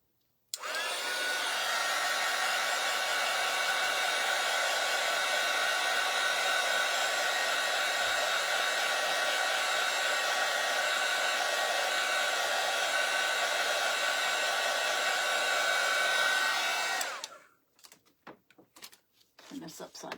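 A hair dryer drying paint on a jar blows at a steady, loud roar for about sixteen seconds, then switches off, followed by a few faint clicks and handling sounds.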